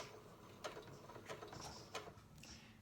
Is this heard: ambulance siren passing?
no